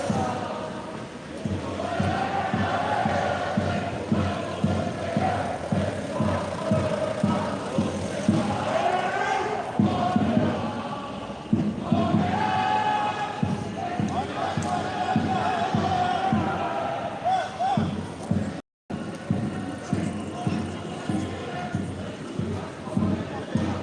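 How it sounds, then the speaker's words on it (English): A large Yellow Vest protest crowd in Toulouse, with dense chanting, shouting and rhythmic clapping or drumming that carries on steadily and loudly throughout, and voices close by. "There's a big crowd behind me."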